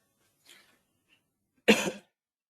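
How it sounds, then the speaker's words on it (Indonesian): A faint breath, then one short, close cough after a brief silence. "saya agak batuk-batuk karena memang belum fit ya."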